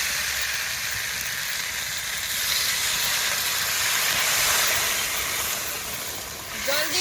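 Water poured into potatoes frying in spice paste for an egg, eggplant and potato curry sets off a loud, steady sizzle and hiss of steam that stays close throughout.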